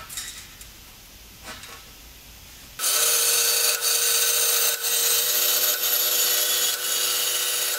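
A metal tube for an oil catch can on a Volvo 940 drift car is cut with a power tool: after a quiet start, a loud, steady cutting whine kicks in abruptly and runs continuously to the end.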